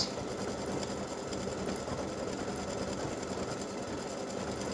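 An embroidery machine stitches a set of earrings and a gift tag, giving a steady, continuous mechanical whir with a dense fast stitching rhythm at an even level throughout, with no voices.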